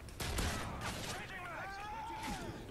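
Rapid bursts of gunfire from a video game, fairly quiet, with a voice talking over the shots.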